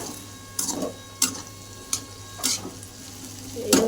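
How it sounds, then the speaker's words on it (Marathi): Potatoes fry in a pan, a steady low sizzle broken by about six regular scraping bursts as they are stirred, close and clear with no talking. "बटाटे मस्त त्याला फ्राय करून घेणार आहे"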